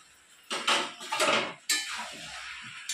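Chicken with chili powder, garlic, ginger, green chili paste and chopped tomato is stirred in a pan: several scraping, clattering bursts of a spoon against the metal, close up and with no speech.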